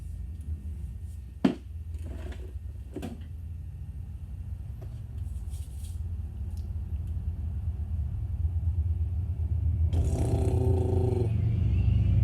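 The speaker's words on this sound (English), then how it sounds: "You hear all that rumbling?" Low, steady rumble of automobiles passing on a road, growing slightly louder over time, with a sharp knock early on and a brighter engine surge near the end, no talking.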